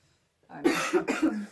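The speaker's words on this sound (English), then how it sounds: "How is the coughing?" A close, harsh burst of three quick coughs in succession after a moment of silence.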